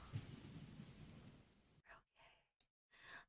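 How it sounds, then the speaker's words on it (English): A soft recorded rain ambience patters quietly and steadily for about two seconds. Then a person starts talking over it, with short pauses. "Maybe we even keep the rain sounds on."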